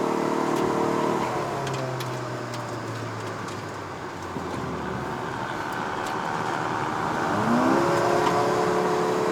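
Proton Iriz 1.6L with a CVT gearbox accelerating on a hill road, a steady engine whir that drops slightly then swells again toward the end, with no talk over it.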